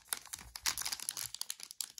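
A 2022 Upper Deck Skybox Metal Universe Champions trading card pack wrapper is torn open, a faint, close crinkling and ripping of foil in quick irregular bursts.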